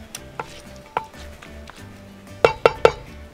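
Green papaya salad ingredients mashed in a bowl: a few soft thuds, then a quick run of three sharper knocks, like a pestle pounding against the bowl.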